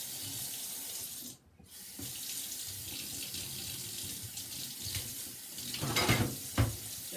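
Tap water running into a household sink while its temperature is checked by hand, a steady close hiss with brief splashy surges and one short break, and no talking.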